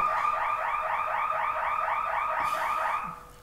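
A fire siren test with a warbling electronic alarm tone that cycles rapidly and evenly for about three seconds before cutting off, fairly loud and heard alone.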